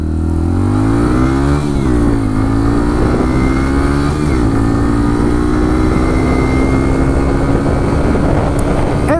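A Bullit Hero 125 motorcycle accelerates at full throttle, its engine droning loud and close as the pitch climbs steadily, shifting gears a couple of times along the way.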